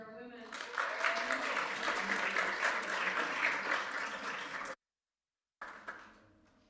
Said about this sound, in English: Big round of applause for our women.